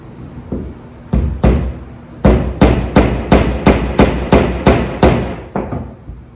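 Hammer driving fence staples into a plywood or particle board brooder panel, a series of about a dozen loud, sharp wooden knocks in uneven bursts, close by with no talking.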